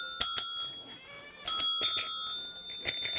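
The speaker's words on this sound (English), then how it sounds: "Just testing out the bells, making sure they're working" Small bells ring in three bright clusters of quick dings, sharp and close with ringing overtones, separated by short pauses and a faint meow-like squeak.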